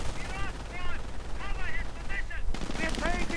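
MG42 machine gun fire in a World War II strategy game rattles in sustained bursts behind constant battle noise, with an excited commentator talking over it.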